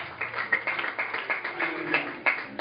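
Scattered hand claps from a church congregation acclaiming Maman Esther during a French-language sermon, a light irregular patter of separate claps at moderate distance rather than a full ovation.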